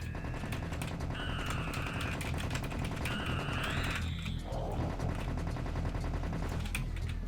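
Rapid, steady gunfire aimed at enemies in Serious Sam: The First Encounter, a dense stream of shots running throughout alongside game effects, with no talking.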